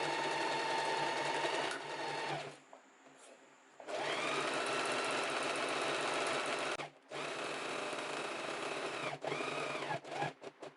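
A sewing machine stitches a top strap in long, loud, close runs, stopping briefly between bursts and ending with a few short, choppy stitches.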